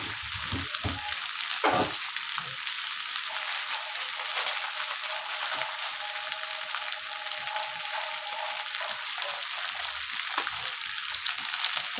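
A spice masala with turmeric fries in a pan for a taro curry, crackling in a constant, bright sizzle, with occasional scraping as it is stirred and no speech.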